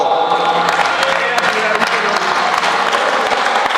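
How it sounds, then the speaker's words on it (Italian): Crowd applause at a five-a-side football (futsal) awards ceremony for a team finishing in the top places. Many hands clap in a dense, sustained roar with sharp individual claps poking through, and voices are heard underneath. "Un applauso a questi ragazzi,"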